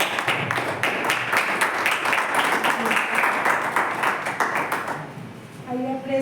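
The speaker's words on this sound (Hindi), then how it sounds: "परमेश्वर की पवित्र हजूरी में हम तालियों के साथ उसका स्वागत करेंगे।" A church congregation at a Sunday meeting claps in welcome, a dense, steady burst of applause lasting about five seconds before fading, with a voice speaking briefly as it dies away.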